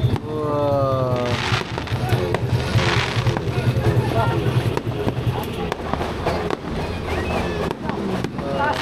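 Fireworks bursting in a continuous volley at a nighttime display, with excited voices calling out close by over the crackling and popping throughout.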